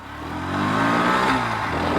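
A 2025 Bajaj Pulsar NS125 ABS, a 125 cc motorcycle, accelerates in first gear, its engine drone rising in pitch and loudness, heard close with no talking.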